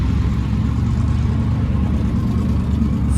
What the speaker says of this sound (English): Ford Escort and I'm assuming it's K-swapped and all-wheel drive. That pink Escort.